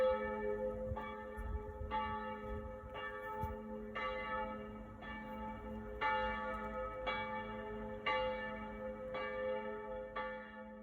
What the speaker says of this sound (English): Church bells ring at least 3 times a day, every day